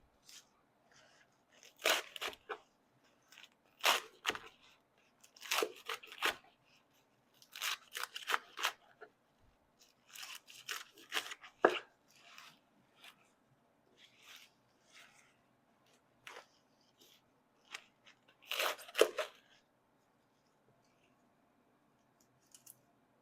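Rough chopping of a large pile of leafy greens on a cutting board, heard as scattered bursts of crisp knife strokes with short pauses between them, close and fairly quiet, with no talking.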